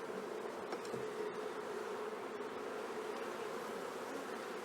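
A dense, steady buzz of many honey bees droning at close range at a tropical hive, continuous and even throughout, with no voices.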